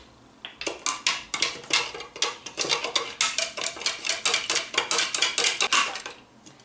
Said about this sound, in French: Donc on mélange bien la préparation